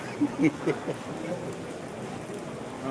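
Rain falls outdoors during preparations for the pallivetta ritual hunt at the Champakkara Meenabharani temple festival, a faint, even hiss that continues steadily after a few brief voice sounds at the start.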